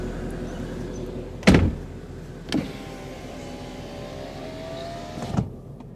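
A Ford Mustang Premium is closed up: two solid door-like thumps, then a steady electric whine of the power windows rising, ending in a soft clunk as the glass seals, close by with no talk.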